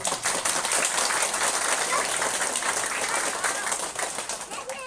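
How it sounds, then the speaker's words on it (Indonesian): A crowd at a village head election campaign event in Karangreja applauds, a dense, steady crackle of many hands clapping that lasts several seconds at a moderate distance. "Tepuk tangan."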